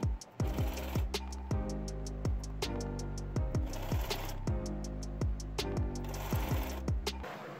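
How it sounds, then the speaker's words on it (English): A sewing machine stitches a dress seam allowance down to its facing, running in a fast, steady rhythmic chatter of needle strokes with brief pauses and restarts, close and clear throughout. "now I just need to go through and sew this seam allowance down to the facing here"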